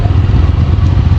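A vehicle's engine braking on a steep, dangerous mountain road near Keokradong and Sungsang Para: a steady, loud, close rumble of low engine drone with slight clattering pulses and no pauses.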